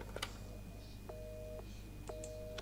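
A telephone in Resident Evil 7 is dialed, a few short clicks followed by two steady tones, each about half a second long, heard alone over a low background hum.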